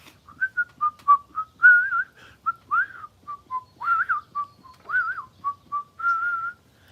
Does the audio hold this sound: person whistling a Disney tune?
yes